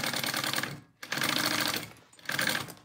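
A sewing machine stitches a bag lining at a 5/8 inch seam allowance, running in three steady, loud bursts separated by brief pauses.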